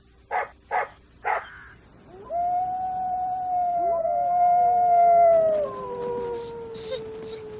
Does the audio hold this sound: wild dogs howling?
yes